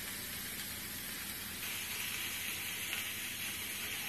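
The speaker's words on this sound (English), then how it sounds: "What you want to do is you want to flatten or mash this burger down" A burger patty, smashed flat, sizzles in a cast iron skillet, a quiet steady frying hiss with no talking.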